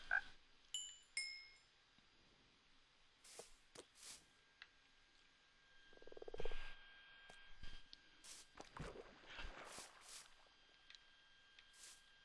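Frogs croak in Minecraft 1.19 during frog breeding, short scattered calls and clicks popping up over a quiet game background, with one louder croak near the middle.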